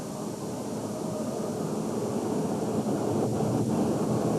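Monster truck tractor at a 1991 USHRA event in Worcester, driven by a 4,000 horsepower Westinghouse jet aircraft engine, roaring with a steady broadband whoosh that stays loud and unbroken.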